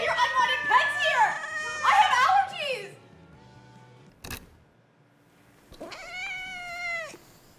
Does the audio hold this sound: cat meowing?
yes